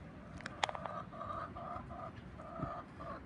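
A chicken clucking nearby, repeated short throaty notes in an uneven rhythm over a faint background murmur.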